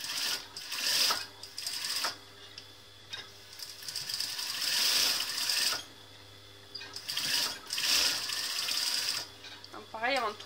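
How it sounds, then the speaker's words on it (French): A sewing machine stitches fabric in repeated bursts of fast mechanical whirring and clatter, stopping and restarting several times, with quiet talking in the pauses. "moi je le pique à la machine, c'est plus rapide"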